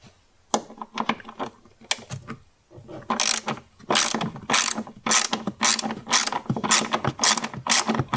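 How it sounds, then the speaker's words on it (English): Rapid ratchet clicking as a 10mm screw is undone on a Suzuki Jimny JB74, in repeated close, loud bursts of clicks with short pauses between them. "It's a 10mm screw, so let's get our ratchet."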